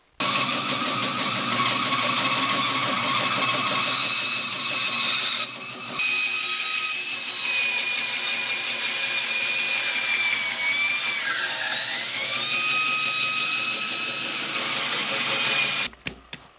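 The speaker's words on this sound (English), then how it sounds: "now to the bandsaw." Bandsaw cutting through a heavy piece of walnut, a loud continuous motor whine with a steady high tone that shifts pitch as the blade bites, running nearly nonstop and cutting off abruptly at the end.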